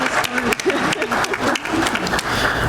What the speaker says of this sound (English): I'd like a special round of applause